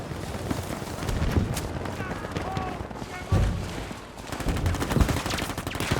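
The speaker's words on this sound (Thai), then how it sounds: "มันยิงเราอยู่" Rapid bursts of Battlefield V gunfire crackle over a busy, noisy battle mix, with a couple of louder impacts and a voice talking underneath.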